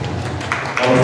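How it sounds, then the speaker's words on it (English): A crowd claps in a brief, dense burst of applause for 4-H exhibitors at the 2018 Western Spring National Holstein Show, a dairy cattle show, with voices mixed into the clapping. "just gave a good round of applause to all the 4-H shows"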